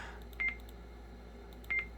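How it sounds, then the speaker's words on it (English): A CB radio emits two short, clean electronic beep tones, one at a time and spaced about a second apart, when its push-to-talk key is pressed, over a quiet steady hum. "just a beep, beep, beep, beep when I click key on key on key on key"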